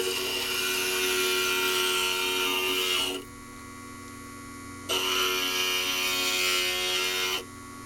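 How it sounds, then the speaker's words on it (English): Stained glass grinder shaping a piece of glass, a loud whirring grind in two long passes separated by a brief pause where only the motor hum remains. "And now it's onto the grinder to do a little bit of cleanup and a little bit of shaping."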